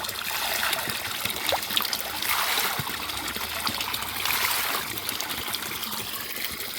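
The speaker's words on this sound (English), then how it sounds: "The water comes from that side." Fresh spring water trickles and splashes steadily out of the soil in a Kenyan village, a continuous close, bright babble with no break.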